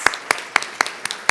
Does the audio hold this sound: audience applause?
yes